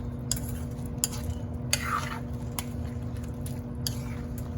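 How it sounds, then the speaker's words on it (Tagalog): A utensil stirs squash, string beans and shrimp simmering in coconut milk, giving soft intermittent scrapes and clicks against the pot over a low, steady kitchen hum. "Haluin natin ulit."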